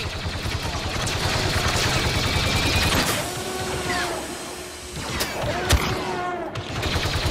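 Sustained gunfire from a Star Wars Battlefront 2 campaign battle, dense rapid blaster-style shots with a few sharper bursts standing out over a busy mix of effects and score.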